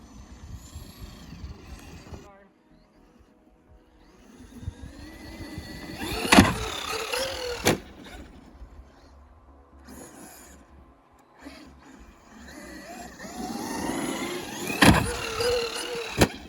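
A Traxxas Maxx V2 RC truck driving in snow, its electric motor whining in bursts that rise and fall with throttle, with quiet gaps between runs and a couple of sharp knocks.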